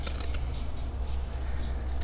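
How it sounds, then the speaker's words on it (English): Scissors snip through fabric while cutting a rough circle for a DIY fabric peony flower, a few quick crisp cuts near the start followed by softer, sparser snips close by. "roughly cut a circle"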